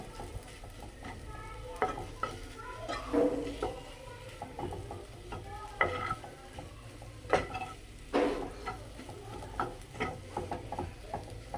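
Potatoes being stir-fried in oil in a pan for a village-style bread chop: a continuous low sizzle broken by irregular scraping and clattering spatula strokes, fairly close and with no talk.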